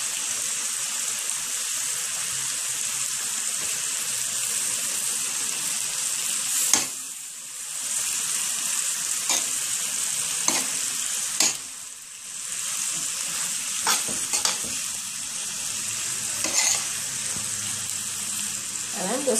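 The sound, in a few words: stirring ackee and saltfish fried rice in a frying pan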